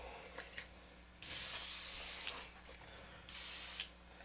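An airbrush sprays violet and black paint for tiki art, with two long, loud bursts of steady hissing separated by quieter gaps and brief short puffs.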